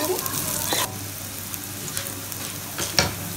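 Onions fry in hot oil in a pan, giving a loud, close sizzle that drops off sharply after the first second and then continues as a softer hiss. A few utensil stirs and clinks come through, and no one speaks.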